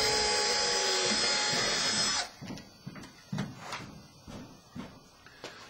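A drill bores a weep hole into a 1.5-inch PVC pipe for a sump pump setup, a loud steady whine for about two seconds that stops, followed by a series of faint knocks and handling clatter.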